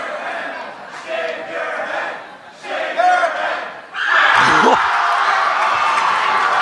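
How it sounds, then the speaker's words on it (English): Basketball crowd in the Salem gym taunting an opposing free throw shooter, a loud roar of yelling and jeering voices that swells into a sustained burst of cheering near the end. "Salem crowd getting into his head right there."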